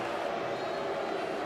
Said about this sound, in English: Crowd started to rise to its feet in celebration